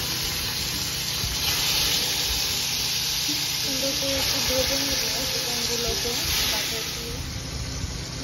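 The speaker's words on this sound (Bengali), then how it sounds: "চিকেনগুলো ভাজা হচ্ছে।" Chicken pieces fry in melted butter and coconut oil, producing a continuous, loud hissing sizzle that stays steady throughout, with faint background sounds underneath.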